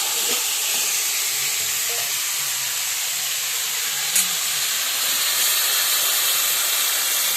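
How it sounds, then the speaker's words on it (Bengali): Taro leaves drop into hot oil tempered with spices in a pan, a loud, steady frying hiss and sizzle with a single brief clink partway through. "এবার কচুর শাকটা দিয়ে দিলাম"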